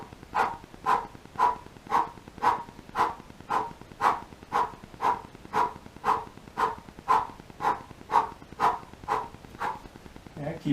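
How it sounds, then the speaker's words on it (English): Forceful rhythmic yogic breathing, cannon breath, pulses steadily about fifteen times in a row, each sharp, loud exhale close and evenly spaced in a continuous chain. "Nice cannon breath."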